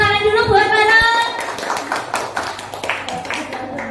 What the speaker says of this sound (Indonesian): tepuk tangan dulu buat Pak Haren.